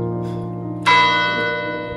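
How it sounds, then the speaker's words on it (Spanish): A church bell tolls for a death, one hard strike ringing out loud and sustained with a long harmonic decay, over a steady low hum. "cada vez que muere alguien, tocan esta campana"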